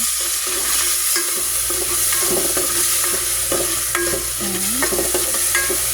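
Garlic, onion and ginger sautéing with fish sauce in a pan for sinampalukang manok, a steady close-up sizzle of frying broken by the scrape and clatter of a utensil stirring.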